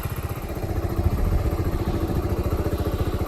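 A Kawasaki Z125 motorcycle engine chugs close by at low revs, a loud, steady pulsing putter with a slight swell of throttle.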